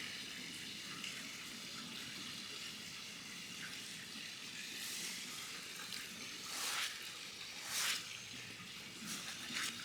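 Water pours steadily onto the fabric of an aluminum patio lounger, a continuous soft splashing hiss with a few louder surges, heard without talk.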